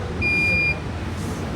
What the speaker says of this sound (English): cabinet's going to go into an alarm